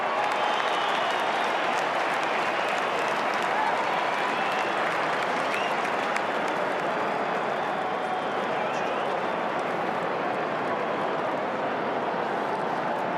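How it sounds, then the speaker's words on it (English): A large crowd at an Australian football match between Melbourne and Collingwood applauds and roars in a steady, dense wash of cheering and clapping that stays loud throughout. "And the crowd loves it."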